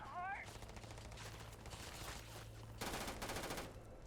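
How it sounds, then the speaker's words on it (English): Rapid gunfire from a firefight in the video game Starfield, a dense burst of shots under a steady background hum, with a louder, more intense volley near the end. "We're just blindly shooting right now."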